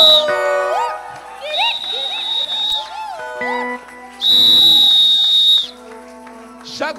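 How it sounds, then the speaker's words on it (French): Loud, close whistle blasts ring out during a Sunday church worship service, repeated sliding and steady tones, some short and chirping, one long sustained blast in the middle, with crowd sounds faintly behind. "Chaque fois que je siffle, le diable a peur."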